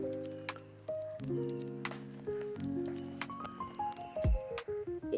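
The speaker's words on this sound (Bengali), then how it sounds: "আমি এখানে দুখানা বড় সাইজের পেঁয়াজ স্ল্যাশ করে কেটে নেব।" A knife slices two large onions in a home kitchen, giving a run of crisp, close cuts and squishy chops that quicken near the end. Soft tonal background music plays underneath, with no talk.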